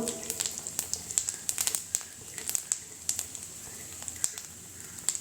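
Cumin seeds crackling and spitting in hot mustard oil with a dried chilli, a steady fizz broken by dense, irregular sharp pops, close up.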